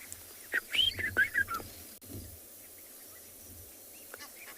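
Double-banded sandgrouse calling at a waterhole in the evening, a quick run of soft chirping calls at a moderate distance, with faint whispering voices over quiet background.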